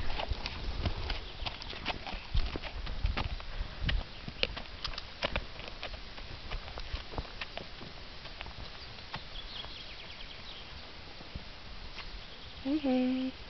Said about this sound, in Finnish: Kaunis hevonen.